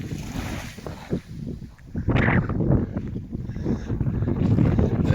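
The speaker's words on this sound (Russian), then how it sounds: "Редкие всплески моря у берега." Calm Black Sea water splashing gently at the shore of a beach in Anapa, with a steady rush of wind blowing across the microphone and an occasional stronger splash standing out near the start.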